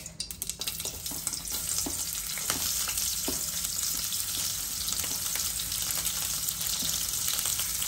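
Onions sizzle with cumin seeds in hot oil in a pan while Maggi noodles are being made, a steady loud frying hiss with occasional stirring clicks and pops, close up and continuous throughout.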